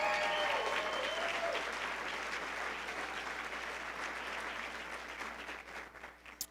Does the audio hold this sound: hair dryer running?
no